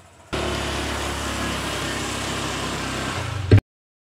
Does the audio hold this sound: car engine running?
yes